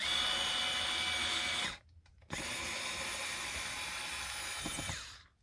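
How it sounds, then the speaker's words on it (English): A power drill or driver runs steadily while driving new screws into the pickup mounting holes of an SX JB75 bass guitar, two long whirring bursts with a short pause between, close and loud. "what I'm just doing here is just using the new screws to make the hole"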